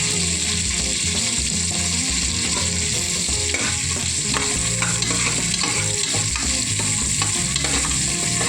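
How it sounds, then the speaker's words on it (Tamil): Onions fry and get stirred in a pan with cinnamon and cardamom for Tamil-style country chicken dishes, a loud continuous sizzle with scraping stirs, close up and without talk. "நல்லா கலர் மாதிரி வர்ற வரையிலும் இந்த வெங்காயத்தை நல்லா வதக்கிக்கணும்"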